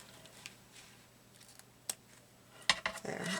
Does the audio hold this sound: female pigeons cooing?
no